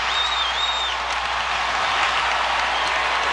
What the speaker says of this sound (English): And the crowd coming alive here, rising as one